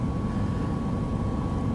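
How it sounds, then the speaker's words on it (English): A steady low drone comes from the two piston engines of a freight aircraft idling before run-up checks, loud and even throughout, with no talking. "But listen to those engines."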